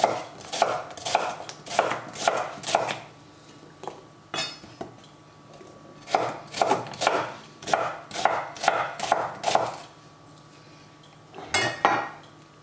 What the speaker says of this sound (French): La première étape, on va couper grossièrement l'oignon.